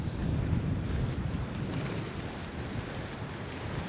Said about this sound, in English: The wind's so strong that me blooming 40 gram lure's just skipping across the surface.